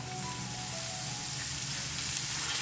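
Tomatoes fry in a spoonful of oil in a pan, giving a steady, close, even sizzle with no voices over it.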